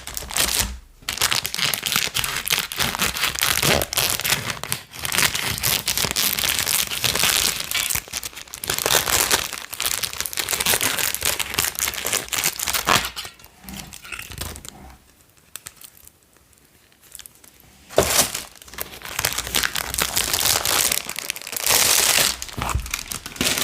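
Catalog wrapping is crinkled and cut open with flower scissors up close, giving loud papery and plastic rustles, tearing and snipping bursts with brief quiet pauses in between.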